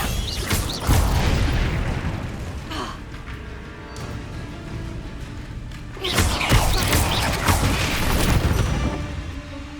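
A fiery Confringo explosion spell from the video game Hogwarts Legacy, heard as loud booming blasts with crashing debris, one burst near the start and another around the six-second mark.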